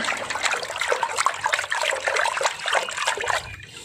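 Salt is stirred into a container of water meant for watering vegetables, giving a continuous close swirling, sloshing and trickling that fades out at the end.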